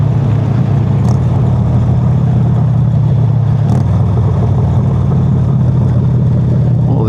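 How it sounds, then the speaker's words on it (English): A motorcycle engine rumbles loud and close throughout under heavy wind buffeting, with a few brief sharp revs as it downshifts. "The downshifts are crispy."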